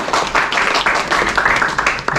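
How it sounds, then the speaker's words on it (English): An audience applauds at the close of an information session on Australian student visas and permanent residency, a brief dense burst of clapping that carries steadily for about two seconds with no talk over it. "What about clapping?"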